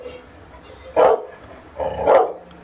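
A dog lets out two loud, close barks about a second apart, each short and sharp, against a quiet room.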